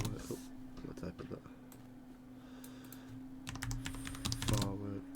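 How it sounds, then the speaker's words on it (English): Fingers tap quickly across a computer keyboard in uneven bursts of clicks, close and clear over a steady low hum, with a faster flurry of keystrokes toward the end. "I'm typing"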